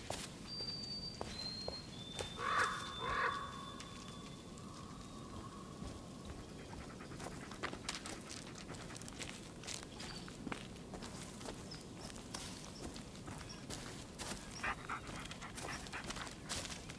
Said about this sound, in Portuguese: A gente tem que seguir o cachorro.